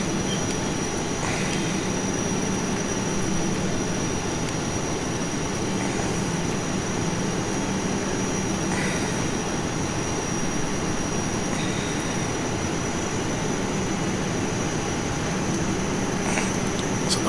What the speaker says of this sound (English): Well, the engines are now cut off